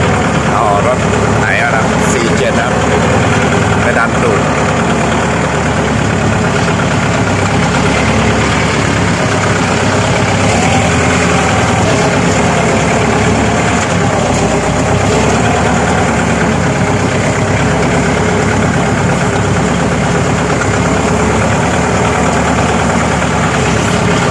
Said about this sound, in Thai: มาเอารถไถกันนะครับ